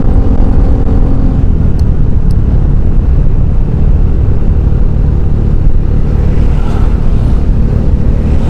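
A car passing on a dark road at night on the Denpasar–Jembrana route in Bali, heard as a loud, continuous engine and road roar with wind buffeting, close to the microphone.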